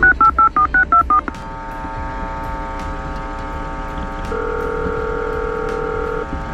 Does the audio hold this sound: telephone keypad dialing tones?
yes